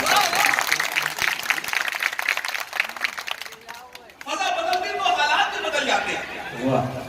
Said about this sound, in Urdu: لیکن اردو کی محفل سجائی پر زوردار تالیاں بجائیے آپ.